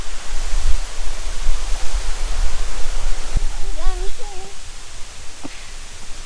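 Rushing stream water pours over rocks at a campsite, a loud broadband roar filling the whole stretch, with a brief whistle-like bird or voice sound and a couple of clicks over it.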